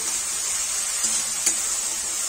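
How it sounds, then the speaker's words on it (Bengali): Spice paste with ground cumin and garam masala sizzling steadily in a pan, a constant bright frying hiss with a couple of soft stirring scrapes, close and even throughout, no voices. "জিরের গুঁড়ো, গরম মশলার গুঁড়ো, ভালোভাবে কষিয়ে নিলাম মশলাটাকে।"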